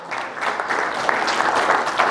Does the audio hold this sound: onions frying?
no